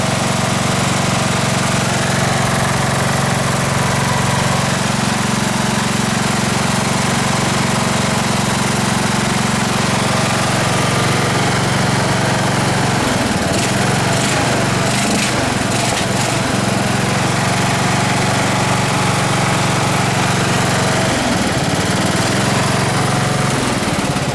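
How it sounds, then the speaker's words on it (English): A small garage-sale tractor engine running continuously, a loud, steady, rough drone close by that holds throughout, with brief faint clatter partway through and no talk. "see if we can get it running for a little bit longer period of time and see how it does"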